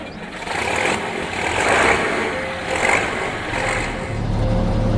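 Bizon Gigant combine harvester with a 680 engine in Farming Simulator 22, a loud rattling diesel rumble that swells and eases in slow waves, heard alone close up.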